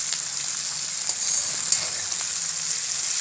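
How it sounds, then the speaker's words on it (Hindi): Onions frying in a pan for a soybean chunk curry, a steady close sizzle with faint crackles and occasional stirring, no voices. "अब हमने प्याज डाला है और उसे अच्छे से भून लेंगे।"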